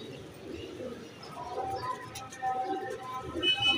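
Soft pigeon coos and bird calls over a steady outdoor murmur, with faint voices in the background.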